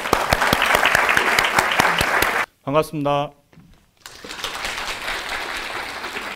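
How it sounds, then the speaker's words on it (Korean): An audience claps to welcome an HR team leader at a company talk event, dense clapping that stops abruptly partway through as the leader briefly speaks a greeting, then clapping resumes. "저희 HR 팀장님을 박수로 모시겠습니다."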